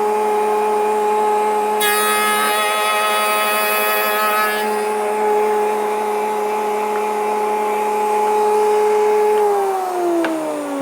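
A router fitted with an Axcaliber stile and rail cutter runs at a steady high-pitched whine, briefly joined by a harsher cutting burst early on, then winds down in pitch near the end as it is switched off.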